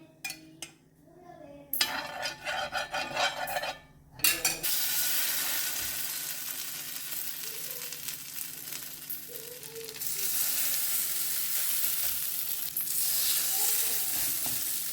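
Alu vadi frying in oil in a hot pan: a loud, continuous sizzle that swells as the oil hits the pan, with utensil clinks and scrapes early on.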